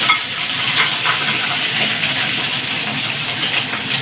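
Pointed gourd (potol) pieces fry in hot oil, making a loud, close, continuous sizzle with fine crackling texture and no talk.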